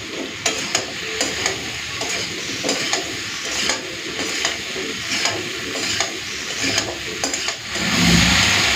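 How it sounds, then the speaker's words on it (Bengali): Potato and okra fry with prawns in a pan, a steady close sizzle under repeated stirring scrapes, with the frying swelling louder near the end. "আলু ঢেঁড়সটাকে চিংড়ি মাছের সাথে এখানে ভাজা ভাজা করে নিয়েছি"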